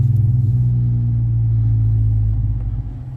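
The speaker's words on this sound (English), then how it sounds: "Hear the exhaust." A car with a Magnaflow Magnapack exhaust rumbles loud and close with a deep, steady low drone, holding a throaty tone and easing off slightly at the end, with no talking.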